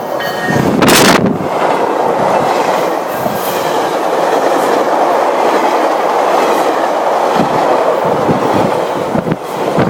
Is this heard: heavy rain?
no